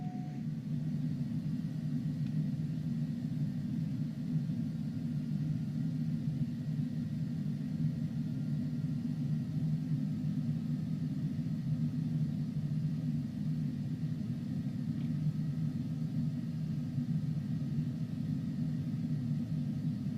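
The engine of a Cessna Longitude jet in Microsoft Flight Simulator 2020 gives off a steady, loud low rumble with a broadband whooshing hiss, continuous and unchanging throughout, with no talking.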